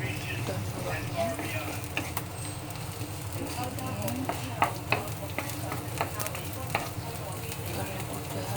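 Spring onions fry in a hot pan, a steady close sizzle with occasional stirring clicks and scrapes while a person talks over the cooking.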